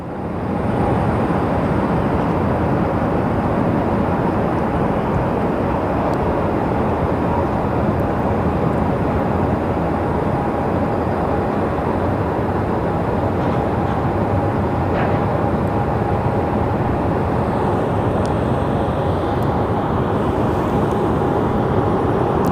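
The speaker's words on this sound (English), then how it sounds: "here we have another little Delta Embraer coming in" A small Delta Embraer jet comes in at Phoenix Sky Harbor Airport, a steady, fairly loud broadband roar holding evenly for over twenty seconds with no voices on top.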